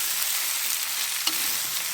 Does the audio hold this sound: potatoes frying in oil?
yes